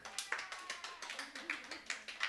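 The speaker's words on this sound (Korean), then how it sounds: "아, 박수" A small youth church congregation claps along in a quick, even rhythm, each clap crisp but faint and somewhat distant, repeating steadily without pause.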